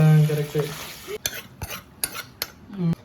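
A spoon stirs veg kurma masala in a pan with several sharp metallic scrapes and clinks against the pan over a low sizzle, a short hum at the start, then close clatter and no talking.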